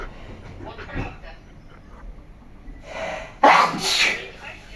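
A person sneezes loudly and close up near the end, after quieter background speech and stirring.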